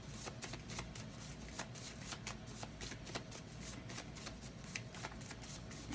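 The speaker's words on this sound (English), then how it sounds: "So we're going to pull some additional spiritual cards." A deck of spiritual oracle cards is shuffled repeatedly, quick soft riffling and flicking in an even rhythm, close but faint, with no voices.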